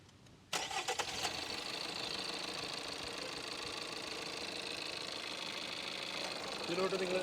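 A Tata Sierra Kryojet diesel engine cranks and fires abruptly, then settles into a steady, close, loud idle with an even mechanical clatter that continues to the end.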